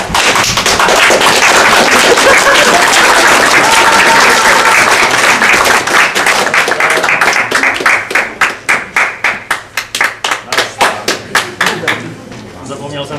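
A theatre audience applauds as a renowned actor walks onto the stage. The clapping is loud and dense at first, then thins into scattered individual claps before fading out.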